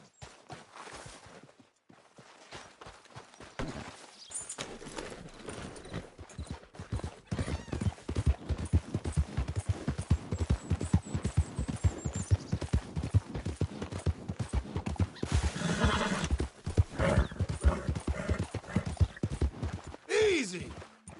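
Hooves clop in a quick, steady rhythm that grows louder and closer, with a brief whinny and a short spoken call near the end.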